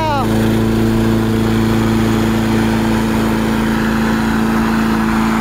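A small walk-behind lawnmower engine, recently repaired after a broken primer bulb and a busted gas line, idles loudly and steadily close by with a constant hum throughout, and voices are mixed in.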